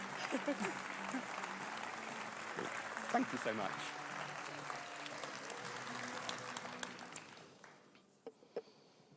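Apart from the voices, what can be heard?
applause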